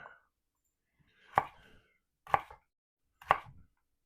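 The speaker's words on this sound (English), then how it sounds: "So we're getting our carrots all cut." A knife chops carrots on a cutting board in three sharp, evenly spaced thuds, close and clear against near silence.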